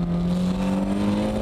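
Drift car engine held at steady high revs under throttle to break the rear loose, a sustained droning note with a slightly rising pitch, loud and close throughout.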